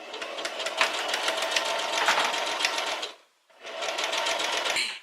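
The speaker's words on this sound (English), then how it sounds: "now I'm going to simply stitch it up" A sewing machine runs in two steady bursts of rapid stitching through fabric tubes for a headband, with a brief pause between runs, close and loud with no talk.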